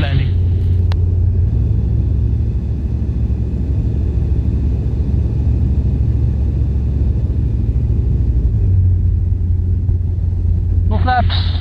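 Small aircraft engine drones steadily through the cabin, with a loud, even rumble that holds throughout as the plane flies a right downwind toward a gravel runway for a full-stop landing.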